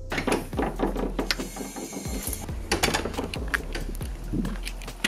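Ratchet straps are cranked tight onto a stool, giving rapid clicking pawl bursts in short irregular runs, close and crisp, with no talking.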